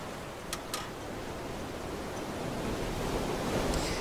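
Wind and sea while sailing in the video game FAR: Changing Tides, a steady broad rush of wind and surf that swells gently louder toward the end, with a couple of faint short ticks early on.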